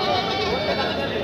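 A goat bleats loudly and close at a busy Tuesday livestock market on Bailey Road in Patna, one wavering cry filling the moment amid crowd noise and nearby talk.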